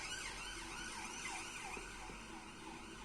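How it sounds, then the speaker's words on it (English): Emergency vehicle sirens wail outside, faint and distant, their pitch sweeping up and down continuously over a steady background hum. "Damn them sirens."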